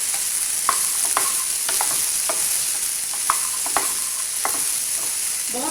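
Green beans sabzi frying in a small amount of oil on a low flame, stirred with repeated scraping clicks over a steady close sizzle; no one speaks.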